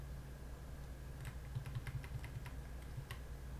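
Several quick, light key presses on a computer keyboard, a short run of keyboard-shortcut taps clustered near the middle, close and quiet over a faint steady hum.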